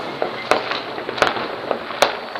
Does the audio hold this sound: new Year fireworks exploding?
yes